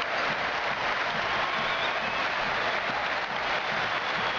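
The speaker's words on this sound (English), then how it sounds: "Receiving a lot of applause." A basketball arena crowd at the EuroBasket 2005 final gives a standing ovation, dense continuous applause and crowd roar at steady loudness with no speech over it.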